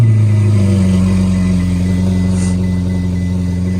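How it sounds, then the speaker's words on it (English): A straight-piped Ferrari rumbles loudly and steadily close by, a deep droning exhaust note that shifts slightly in pitch early on, then holds a constant idle. "This car is straight piped, so it's kind of loud."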